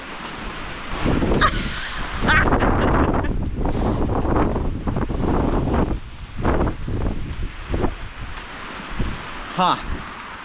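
Strong wind gusts roar across a frozen lake campsite, buffeting the microphone with loud, rushing bursts while people talk nearby.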